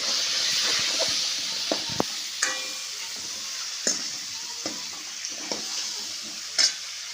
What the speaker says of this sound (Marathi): व्यवस्थितपणे आपल्याला आता हलवून घ्यायचे आहे